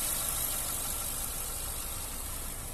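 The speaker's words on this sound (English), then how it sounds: "Engine sound very nice and smooth." A 1.4-litre petrol Honda Jazz automatic idles steadily with a smooth, even hum under a broad hiss, close and constant throughout with no talk.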